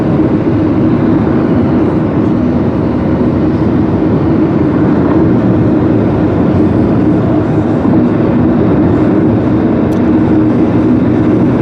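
A heavy BNSF freight train rumbles past close by, a loud steady roar of wheels and rolling cars that holds constant throughout.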